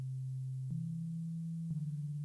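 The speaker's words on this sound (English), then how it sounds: "Here you see the simple sine wave." A pure, steady synthesizer sine-wave tone held alone at moderate level, stepping slightly up in pitch twice with faint clicks at each change.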